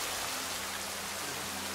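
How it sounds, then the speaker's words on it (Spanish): Steady gusting wind and rain at Punta San Carlos, a dense continuous rush that stays loud and even throughout with no voices. "No sé si se aprecia la racha de viento y lluvia, creo que sí."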